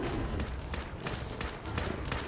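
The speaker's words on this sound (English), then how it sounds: "I was able to finally pull out my 2-shot rifle and finish him off." Rapid rifle gunfire in the video game Borderlands, a dense run of loud shots fired in quick succession with no talking.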